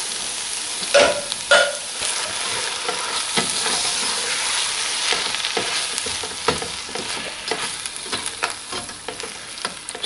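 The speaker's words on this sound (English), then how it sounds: "I'll just add all the tomato sauce at once." Tomato sauce hits a hot, sizzling pan of chicken cooked in yogurt and is stirred in: a steady, close frying hiss with a couple of louder splashy bursts near the start and light scraping stirs throughout, with no talking.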